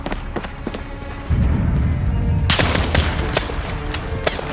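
Dense automatic gunfire and scattered shots crackle loudly in a Call of Duty Modern Warfare campaign battle. Steady bursts are layered over a low rumble, and the firing grows heavier partway through.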